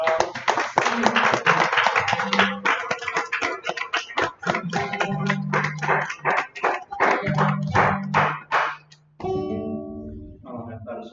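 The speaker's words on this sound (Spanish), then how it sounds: "Un aplauso bien fuerte al Señor." Congregation clapping during a church worship service, with loud rhythmic clapping mixed with music and sustained tones, the claps in quick runs with brief gaps before the sound changes near the end.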